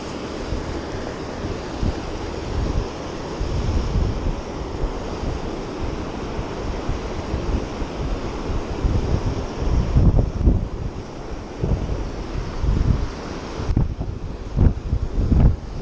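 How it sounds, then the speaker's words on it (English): Wind gusts steadily at a cold, snowy riverside and buffets the microphone. The roar is broad and constant, with low rumbling thumps and a brief drop in the middle, and there are no voices. "So wind's picking up"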